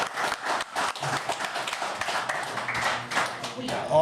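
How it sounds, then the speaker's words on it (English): Onlookers at a bass fishing tournament weigh-in give a round of applause, scattered uneven claps mixed with cheers and crowd chatter over a few seconds. "Round of applause."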